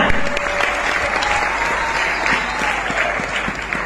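A church congregation in Trinity Ville, Jamaica claps their hands for a servant, loud dense applause that stays strong and continuous, with a few voices faintly mixed in.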